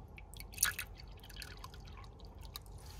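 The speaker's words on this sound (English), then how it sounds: "I'll try my best to make the water sound as loud as I can, but it's still not loud." Water drips and splashes softly as a Theraphosa sturmi tarantula enclosure is watered, with one brighter splash early on, then faint scattered drips over a quiet hiss.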